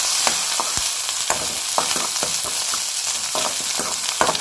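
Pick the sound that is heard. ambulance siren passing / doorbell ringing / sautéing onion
sautéing onion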